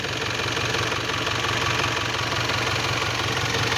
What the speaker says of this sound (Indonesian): Nah suara khas mesin diesel